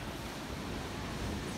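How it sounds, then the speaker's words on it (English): Ocean surf and gusting wind roll together in a continuous broadband wash, with wind buffeting the microphone on a breezy coast near Taipei, Taiwan. "It's kind of windy and there are waves."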